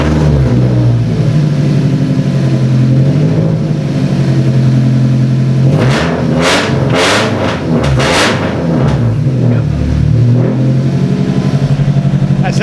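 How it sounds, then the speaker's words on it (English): A car engine revs hard at a drift event in Immokalee, loud and sustained throughout, with sharp rising bursts of throttle in the middle and a brief pop of talk. "just hold down the gas pedal till it blows up"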